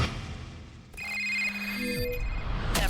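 A telephone-ringing jingle for a radio call-in segment gives bright electronic ring tones over a short musical hit, ending with a sharp burst.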